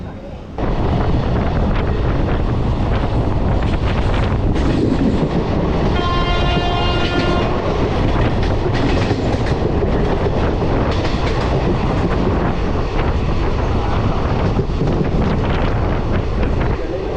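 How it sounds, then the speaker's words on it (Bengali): The 13017 Ganadevta Express pulls into a junction with a loud, continuous rolling rumble and rattle of carriages. A drawn-out horn sounds in the middle, and wind buffets the microphone throughout. "এই হচ্ছে আমাদের ট্রেন"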